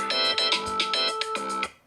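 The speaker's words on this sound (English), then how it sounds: "That's my alarm." Phone alarm ringing, a short repeating electronic tone pattern with rhythmic bursts, fairly faint and heard alone.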